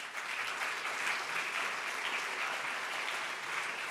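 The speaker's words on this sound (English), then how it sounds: "Please clap your hands for the jury." An audience at the Berlinale independent juries award ceremony applauds the jury, a dense, steady wash of clapping that stays loud and even from start to finish with no voices over it.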